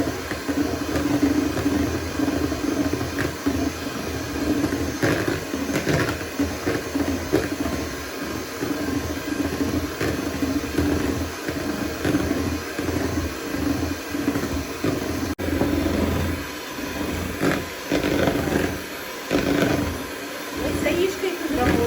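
An electric mixer whips cake batter for cupcakes as flour is added bit by bit, a loud steady motorized whir running throughout with clattering and rhythmic fluctuations from the beaters in the bowl.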